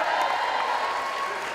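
A ceremony audience applauds graduates receiving certificates, a dense, steady wash of clapping with a faint cheer or two, continuous and fairly loud for the whole moment, no speech over it.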